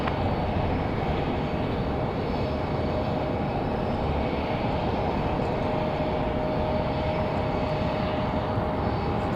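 A Delta jet roars on takeoff from runway 5 left at Raleigh-Durham airport on a windy day, a loud, steady broadband engine rumble with a faint whine that holds throughout, no voices.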